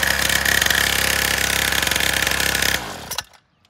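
A 49cc petrol engine on a kids' pocket dirt bike runs after a pull start, buzzing loudly and steadily up close before cutting out and sputtering to silence.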